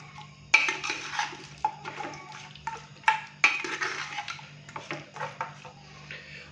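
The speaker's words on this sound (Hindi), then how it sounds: "पानी डालने के बाद अच्छे से हम इसको मिक्स करेंगे।" A spoon stirs mutton karahi with water, salt and turmeric in a metal pot, giving repeated close clanks and scrapes in an uneven rhythm, with wet sloshing between them and no voices.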